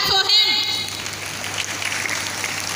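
A burst of clapping from a group at an Independence Day celebration, starting fairly loud and thinning into scattered claps with a faint bleating or squeaky tone at the start.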